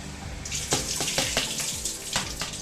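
Water poured into a cooking pot while making banana flower biryani, a steady splashing gush with a few louder bursts, close and fairly loud, with no talk.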